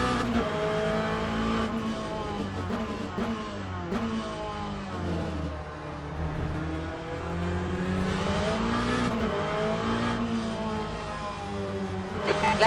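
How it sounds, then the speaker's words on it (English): A faster class race car in Le Mans Ultimate at Portimão approaches with a loud, continuous engine whine, its pitch climbing and dropping through gear changes as it closes in over the player's own engine. "There's a faster class car approaching."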